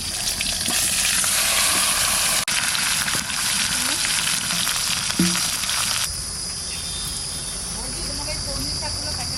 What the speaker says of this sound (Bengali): এবারে ইলিশ মাছটা চাপাবো সামান্য তেল কালো জিরে শুকনো লঙ্কা আর কাঁচা লঙ্কা